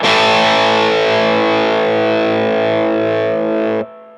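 Electric guitar played through a Mad Driver overdrive pedal with every knob at noon and the tone set bright, a single sustained distorted chord ringing loud and steady for nearly four seconds before cutting off.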